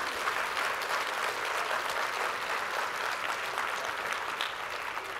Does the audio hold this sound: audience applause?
yes